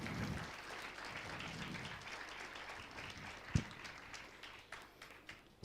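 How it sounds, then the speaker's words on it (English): An audience applauds steadily throughout a live stage conversation event, a dense, even wash of many hands clapping at moderate volume, with one sharp knock partway through. "So, yes, give them a big round of applause."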